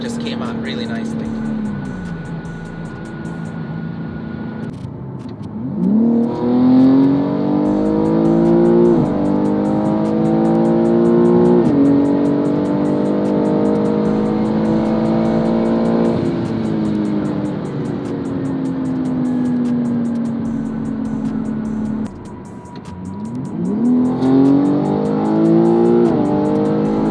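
A modded BMW M3 G80 xDrive with an upgraded intake revs hard several times: sharp rising sweeps, long sustained high-rpm holds and falls back to idle. The engine is close and loud throughout.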